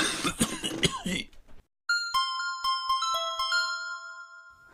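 A man hacks out a rough cough imitation in a short burst of throaty coughs, then a string of bright bell-like ding tones rings out in sequence with sustained tinkling overtones.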